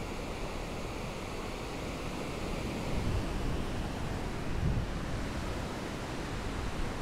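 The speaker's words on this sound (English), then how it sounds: "Everything sounds good when you're on the beach and you hear the waves, right? Those are big waves right there." Big ocean waves break on a beach in steady wind, making a continuous loud roar and hiss, with slightly stronger surges around the middle and no one speaking.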